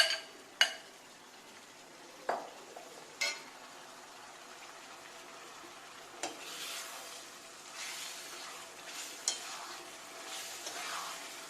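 Marinated chicken sautéing in coconut oil with onion and tomato for kada chilli chicken, a steady soft sizzle with sharp scrapes and clinks of a spoon stirring and mixing at intervals, fairly quiet and without talk.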